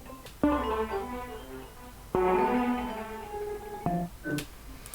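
A dry granular synth patch built from a sample, with its reverb, delay and distortion removed, plays three separate sustained chords with sharp attacks, each ringing and fading before the next, with a short higher blip at the end, alone and fairly loud.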